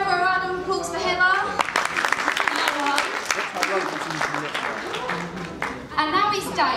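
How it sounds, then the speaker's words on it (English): Audience at a sports awards night applauding a netball award recipient, a sustained patter of clapping mixed with chatter and children's voices. "And another round of applause for Heather."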